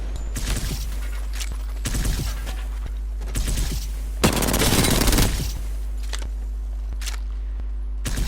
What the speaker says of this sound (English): I just mess around shooting these dummies.